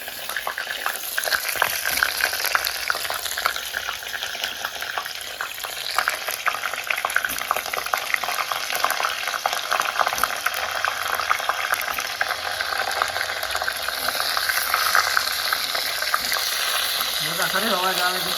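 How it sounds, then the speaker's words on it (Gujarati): Stuffed eggplants fry in hot oil with a loud, dense, continuous sizzle and crackling bubbling that holds steady and close throughout, without pauses. "તેલ હોય છે તેલ એકદમ ઠેકનો જ અવાજ આવે ને"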